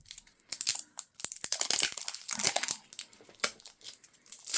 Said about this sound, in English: Plastic noises can be loud.